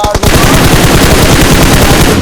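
Rapid automatic gunfire from a video game rattles out loud and close, in a dense continuous burst after a couple of brief opening shots.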